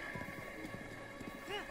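A horse in Zelda: Breath of the Wild gallops with quick rhythmic hoofbeats under game music, with a short neigh-like sound near the end.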